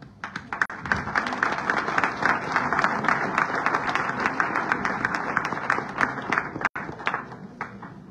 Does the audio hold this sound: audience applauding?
yes